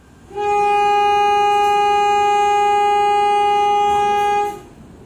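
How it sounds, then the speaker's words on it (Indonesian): A single long, steady horn blast from the Motis Utara passenger train at Cilegon station sounds loud and close for about four seconds, then cuts off, leaving quiet background. "kereta api Motis Utara berangkat dari stasiun Cilegon"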